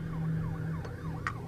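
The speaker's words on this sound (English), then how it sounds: "Oh, there's a police car." Police car siren in a VR video game, a wavering electronic wail sweeping up and down at moderate distance over a steady low hum, with brief clicks.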